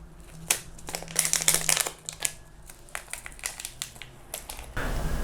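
Seasoning packets for Turkish OBA pizza-flavour instant noodles crinkle and tear, then spices and sauce pour out, giving bursts of close crackly rustling with uneven rhythm and a sustained rushing pour at the end.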